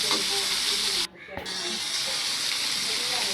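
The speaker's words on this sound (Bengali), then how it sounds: "এটা একটু কষাই নিতে হবে, একটু কষাই নিলাম।" Mal fish being sautéed in a pan with spices, a steady loud sizzle and hiss that breaks off briefly and then resumes.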